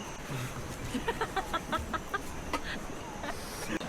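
A chicken at a forest campsite clucks in a quick run of short, repeated notes, moderately close, over a constant rushing outdoor background.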